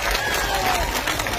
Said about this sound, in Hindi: मैं चाहता हूं सब अपने लिए एक बार जोरदार तालियां बजाएं